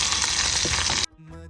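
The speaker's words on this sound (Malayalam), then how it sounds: "വെളിച്ചെണ്ണ ചൂടാക്കുക, ഉലുവ പൊട്ടിക്കുക, കടുക് പൊട്ടിക്കുക, കറിവേപ്പില പൊട്ടിക്കുക, വറ്റൽമുളക് പൊട്ടിക്കുക" Fenugreek, mustard seeds, curry leaves and dried chilli tempered in hot coconut oil for a ripe mango pulissery crackle in a loud, dense sizzle for about a second before it cuts off abruptly.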